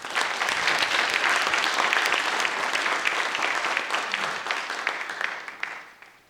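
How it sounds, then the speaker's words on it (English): Warm, sustained applause from an audience at a Center for Black Literature & Culture birthday celebration, a thick wash of clapping that holds strong and then tapers off at the end. "So please give Mr. Robertson a warm round of applause."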